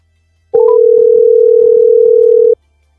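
Steady telephone dial tone while a call is being placed, a single loud continuous hum lasting about two seconds, with faint clicks and background noise around it.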